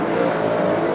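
Late model race cars at full throttle at Carina Speedway during a final, a loud, steady engine roar close by with no break, heard without any talk.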